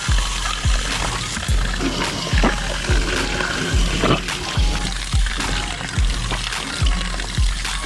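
Water flushing out of an RV tank pours and gushes steadily with a regular pulsing surge, splashing close by, continuous and fairly loud.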